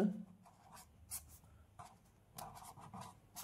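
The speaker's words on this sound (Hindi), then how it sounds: "यहां पे ऐसे लिख देंगे हम खंड" A pen scratches across paper, writing a heading in a Hindi exam answer copy. The faint, close strokes come in short clustered bursts with brief pauses between words.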